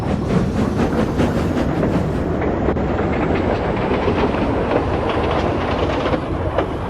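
A steam train runs along with a steady rhythmic chuffing and clatter, loud and sustained, the rumble continuing evenly with no voices over it.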